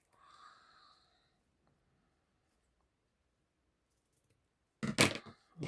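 A brief, sharp snipping sound near the end after a long quiet stretch, like scissors cutting through paper, with a faint murmur at the start.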